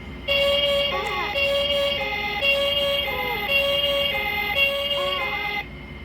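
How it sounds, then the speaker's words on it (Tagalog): An ambulance siren wails loud and close in a repeating rising and falling pattern for several seconds, then cuts off abruptly. "Ambulance"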